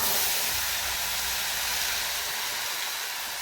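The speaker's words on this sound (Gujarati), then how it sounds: "ગેસ ધીમો કરી દેવી આપણે એટલે સરસ મજાનો વઘાર થઈ જાય" A tempering hisses steadily in a pan over a gas flame turned low, giving an even, close, sputtering sizzle with no talking.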